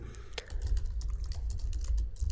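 Code is typed on a computer keyboard in quick, uneven bursts of close key clicks with a few heavier keystrokes, alone without talk.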